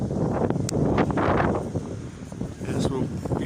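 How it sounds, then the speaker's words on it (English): Strong wind buffets a microphone outdoors on a beach at sunset, a continuous low roar that swells and dips in gusts, loud and close. "it's very windy"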